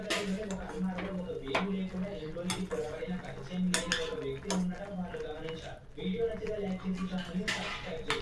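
A spoon stirs Maggi soup in a pot with repeated scraping clinks against the metal in an uneven rhythm, fairly quiet and close, while a person talks over it.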